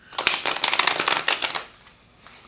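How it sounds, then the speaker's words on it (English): A deck of tarot cards is riffle-shuffled up close, a quick burst of rapid papery flicks lasting about a second and a half before trailing off into quiet. "1 more shuffle for Pisces"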